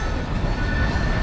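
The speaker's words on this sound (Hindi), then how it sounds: "फाइनली अपनी लेजेंडरी संपूर्ण क्रांति एक्सप्रेस पहुंच चुकी है भाई साहब" The Sampoorna Kranti Express pulling into Rajendra Nagar Terminal, a loud, close, continuous rumble of rolling train wagons and rail noise over a very brief moment.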